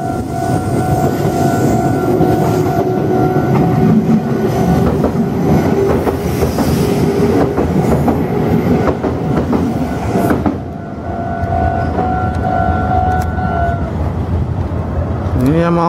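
A Meitetsu Inuyama Line train rumbles across the Inuyama Bridge with loud, steady wheel and rail noise and clickety-clack, sustained throughout and shifting as the cars pass near a level crossing.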